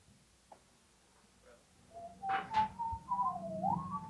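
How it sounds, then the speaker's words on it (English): A few faint, wavering, pitch-sliding whistles from an audience whistling with their ears plugged rise out of near quiet, with a couple of soft breathy bursts, sounding tentative and uneven. "Now, I want you to try whistling again with your ears plugged."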